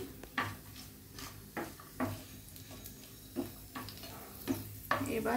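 Rice going into a hot pan for Bengali basanti pulao, with scraping stirs and soft sizzling in a steady rhythm of clinks and scrapes, close by and fairly quiet.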